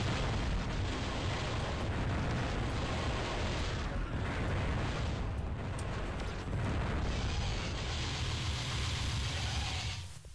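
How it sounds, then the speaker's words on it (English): Homing missiles detonating in the video game Descent, a dense, continuous roar of overlapping blasts and booms that stays loud and steady throughout, with a slight drop near the end. "These are homing missiles."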